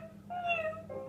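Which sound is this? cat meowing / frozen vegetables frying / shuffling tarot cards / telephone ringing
cat meowing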